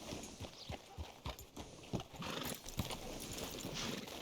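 Horse hooves clip-clop in the video game Red Dead Redemption 2, an uneven series of quiet, distinct hoof strikes with faint snorting and movement around them.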